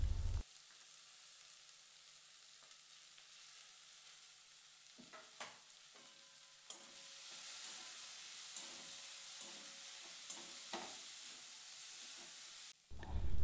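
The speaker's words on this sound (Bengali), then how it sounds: "দেখুন আমি এখন পেঁয়াজ কুচি দিয়ে দিচ্ছি" Chopped onions frying in oil for an egg curry, a steady hiss and sizzle throughout with occasional stirring scrapes, growing louder midway and continuing without any talk.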